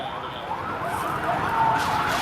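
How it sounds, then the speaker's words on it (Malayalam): An ambulance carrying a donor heart passes through Goshree Junction in Kochi, its wailing siren sweeping up and down loudly and steadily over traffic noise, with no one talking. "ഹൃദയം വഹിച്ചുകൊണ്ടുള്ള ആംബുലൻസ് ഇതാ ഗോശ്രീ ജംഗ്ഷൻ കഴിഞ്ഞു പോയിരിക്കുന്നു"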